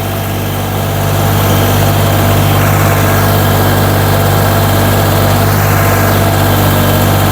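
A YTO 244 SX tractor engine drones loud and close while plowing six-year-old virgin ground in low third gear at about 2000 rpm, a constant heavy rumble that rises slightly at the start and then holds steady.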